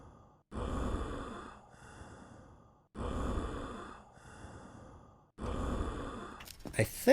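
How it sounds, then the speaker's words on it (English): Sickly breathing heard through a stethoscope in the Phasmophobia video game, three slow, heavy, raspy breaths evenly spaced a couple of seconds apart, close and distinct, with a brief louder clatter at the end. "I think that's regular sickly breathing."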